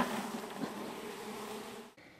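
Many honey bees buzz in a dense, steady drone, muffled inside a container, then the sound abruptly cuts off near the end.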